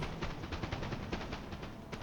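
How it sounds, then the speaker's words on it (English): Rapid, continuous bursts of musket gunfire crackle through the whole stretch, dense and overlapping like a distant battle, in the game Empire: Total War. "Oh, look at that, all that gunfire."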